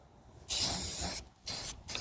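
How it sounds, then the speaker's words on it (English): Aerosol can of rust converter sprayed onto a car's exhaust pipe, a Lexus RX300 or Toyota Highlander: close, loud hissing bursts in three spurts separated by brief pauses, with no talking. "Now spray the rust reformer or rust converter everywhere"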